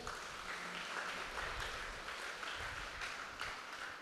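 Audience clapping in a church hall at a children's group event staging a Bible parable as a play, a steady, moderately distant wash of applause with no voices over it.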